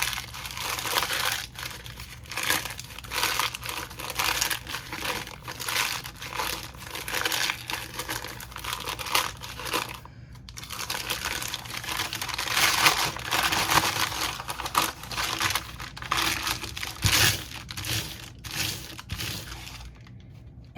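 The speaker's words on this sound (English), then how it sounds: "the very first thing I wanna do is crumple up my brown paper bag" A brown paper bag crumpled up by hand, loud close crinkling and crunching that runs continuously with brief pauses, no voices.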